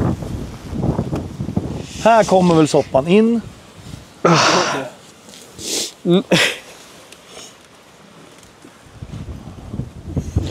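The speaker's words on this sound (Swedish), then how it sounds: "Helvete vad det blåser alltså." Strong wind buffets a boat and roars across the microphone throughout, with people speaking in bursts over the gusting noise.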